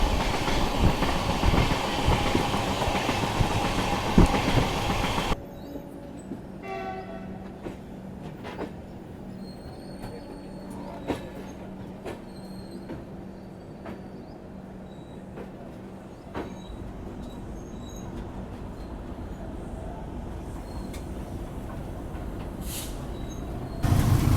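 At Hadapsar Terminal railway station a train rumbles loudly, then drops to a quieter rolling clatter with scattered metallic clicks and brake squeals, before the loud rumble returns at the end.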